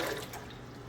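Water rushes steadily into an empty large-capacity top-load washer as it fills, making a broad, hissing splash with no pauses.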